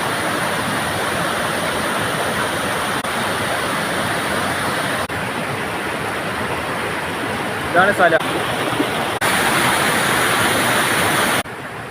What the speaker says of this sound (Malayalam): ഇതാണ് ഫാൾസ് കേട്ടോ.